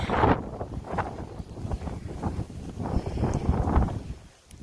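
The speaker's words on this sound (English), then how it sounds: "it's very windy" Strong coastal wind buffets the microphone in rough, uneven gusts on a beach with saltmarsh, a low roaring rumble that swells and fades, close and loud, with no talk.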